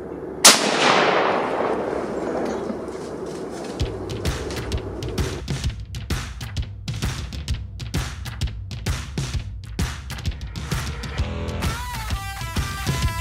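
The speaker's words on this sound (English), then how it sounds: "Shoot him, Paxton." A single loud rifle shot from a .223 firing a 55 grain bullet on a youth deer hunt in Oklahoma, a sharp near crack with a ringing tail, followed by ongoing clatter and rustling.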